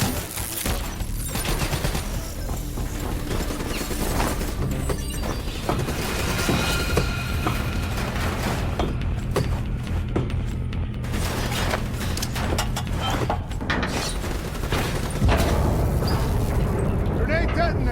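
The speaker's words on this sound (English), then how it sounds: "Grenade detonated." A grenade detonates after being dropped through the vents of a cooling tower in Call of Duty: Black Ops 3, with heavy booms and rattling gunfire rolling on loudly for many seconds while voices speak over the din.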